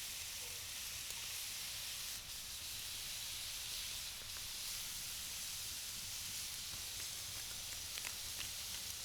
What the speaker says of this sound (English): in a hot cast iron pan, we add the diced bacon. We sear it until it gets brown and crispy